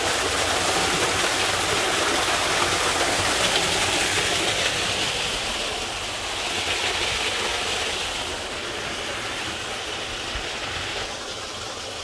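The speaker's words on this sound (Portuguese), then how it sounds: "Cachoeirazinha natural aí" Small natural waterfall after rain, a steady broadband rush of falling water heard close and loud throughout, easing slightly in level toward the end.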